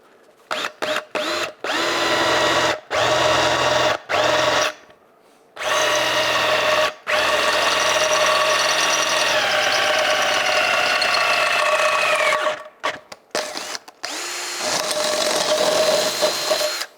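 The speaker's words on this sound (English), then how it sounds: "I just use a larger drill bit as a countersink" A power drill whines in repeated bursts, starting and stopping in short pulses before a long sustained run as a larger bit countersinks carbon steel, close and loud.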